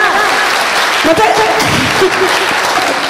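Applause from an audience at a Hindi kavi sammelan poetry gathering, a dense steady wash of clapping filling the whole moment, with a voice speaking faintly underneath.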